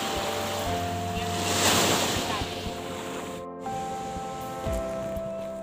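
Strong ocean waves on Utapao Beach in Thailand, a loud rushing surf with wind buffeting the microphone, swelling and easing, while a steady tonal hum runs underneath.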